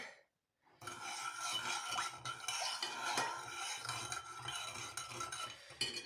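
A spoon scrapes and stirs around a pot of water, close and continuous, with rasping metallic rubs and occasional clinks after a brief silent start.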